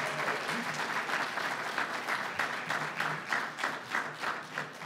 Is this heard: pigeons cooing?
no